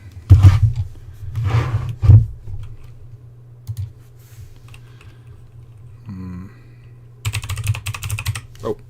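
Typing on a computer keyboard at a desk, with dense bursts of clacking keystrokes, quieter scattered taps and pauses, a short hum-like noise midway, then another rapid flurry of keys near the end, close and clear.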